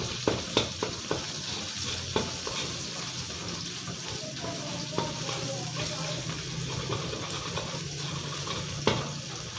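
Red curry paste and shrimp paste stir-fried in a pan, a steady close sizzle with scraping stirs and a few sharp utensil knocks against the pan throughout.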